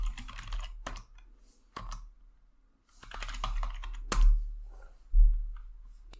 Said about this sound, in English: So they type the username password.